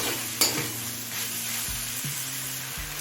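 Ginger-garlic paste frying in a pan for a cabbage dish, giving a continuous close sizzle with occasional spatula stirs and a brief sharp clink near the start.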